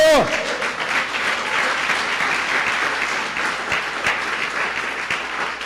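A church congregation claps in praise during a service, a full, steady round of applause filling the room, opening with a short fading tone and carrying on evenly, with faint voices mixed into the crowd.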